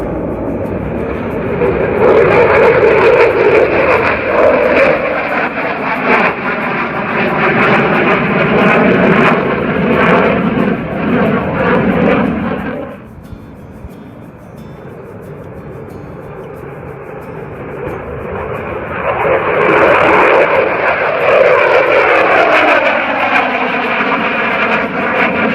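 A fixed-wing aircraft takes off at Darwin airport, its engine roar loud and sustained, dropping away briefly before a second rising surge of jet noise, heard from nearby.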